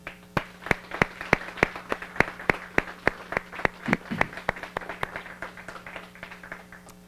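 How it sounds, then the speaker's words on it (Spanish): A church congregation claps together for US Independence Day, a steady run of sharp, evenly spaced claps that keeps a clear rhythm for about seven seconds, with a faint voice murmuring underneath. "demos un aplauso y demos feliz Día de la Independencia a los Estados Unidos"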